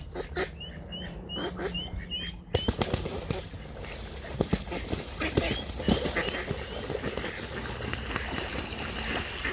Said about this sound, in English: Bloody ducks, there's loads of them here.